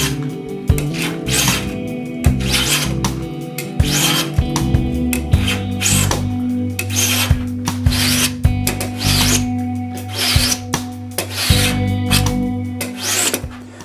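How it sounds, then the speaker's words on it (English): Hand plane shaving a wooden plate down to thickness for a Firebird-style tenor ukulele, with steady repeated rasping strokes, close and fairly loud, no talk. "we can afford to kind of lose a little bit by planing it down"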